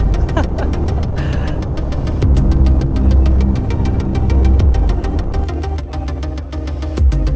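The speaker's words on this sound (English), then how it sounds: "Now Starship's ship is still firing its engines right now" Starship rocket engines firing in Spaceflight Simulator, a steady loud low roar with a rough rumbling texture and scattered crackles, continuous and close throughout with no voices.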